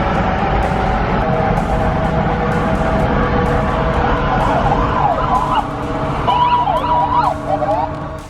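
Several police car sirens wail during a street race pursuit, loud and near over traffic and engine rumble, their rising and falling tones overlapping.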